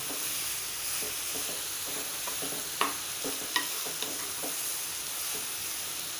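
Chopped onion sizzles steadily in hot oil in a pan with salt, with a few sharp scrapes and taps of a spoon as it is stirred, close and alone.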